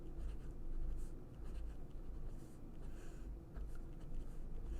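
A pen scratches steadily across a board or paper as a matrix equation is written out by hand, soft continuous strokes with short pauses, close and fairly quiet.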